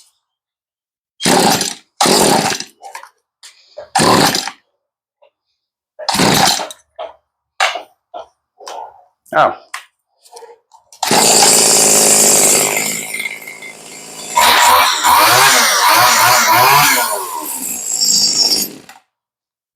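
A Stihl weedeater two-stroke engine running after a carburetor rebuild, revving loud and buzzy for several seconds with rising and falling pitch, preceded by short bursts and pulls, with a brief exclamation from a person nearby.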